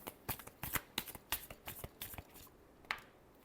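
Tarot cards being shuffled by hand in a quick run of crisp riffling bursts, close and fairly soft, tapering off into a pause with one last flick near the end.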